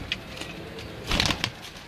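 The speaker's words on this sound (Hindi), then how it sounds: "ये इनका आपको पार दिखा रहे हैं कबूतरों का।" Blue Kamgar pigeons beat their wings in one brief flurry of flapping, close and moderately loud, with soft clicks before and after.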